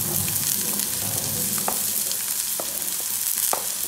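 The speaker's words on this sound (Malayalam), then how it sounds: "ഒരു വലിയ സവാള ചെറുതാക്കി അരിഞ്ഞത് നമുക്ക് ഇതിലേക്ക് ചേർത്ത് കൊടുക്കാം" Chopped green chili and onion sizzle steadily in a pan for egg pockets, with a continuous frying hiss and a few soft stirring scrapes, close and alone without voices.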